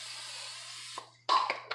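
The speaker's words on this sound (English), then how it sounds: "Then I'm going to spray the top just very lightly" Oil spray misted lightly over raw kale laid in a dish for kale chips: a few short, close hissing bursts following a steady background hiss.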